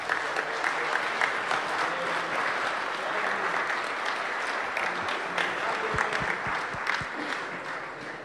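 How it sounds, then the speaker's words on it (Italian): An audience at the national presentation of an Italian beer guide gives the guide's collaborators a long, sustained round of applause. A few louder individual claps stand out near the end, and some voices mix in underneath. "Quindi il primo grande applauso lo chiedo per i collaboratori"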